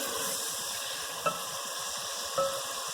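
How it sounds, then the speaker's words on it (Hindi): Garlic, ginger and onion fry in a pan with a steady, close broadband sizzle, broken by two brief stirring scrapes partway through; no one speaks. "इसमें हमने लहसुन अदरक ऐड किया है अभी प्याज के साथ। इसको पहले 1-2 मिनट फ्राई करेंगे।"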